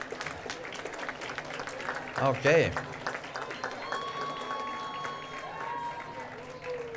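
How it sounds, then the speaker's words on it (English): A convocation audience at a college health and life sciences ceremony claps and cheers in a diffuse, fairly distant wash, close to a standing ovation, with someone speaking over it and a brief louder burst midway. "Almost a standing ovation here, almost."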